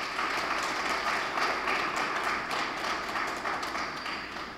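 An audience at a ministry certificate ceremony applauds, a dense, fairly loud spread of clapping that holds steady for several seconds and eases slightly toward the end, with no speech.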